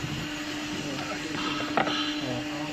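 A napkin paper printing machine starts up and runs with a steady mechanical hum and a constant tone, a brief clunk partway through as it engages.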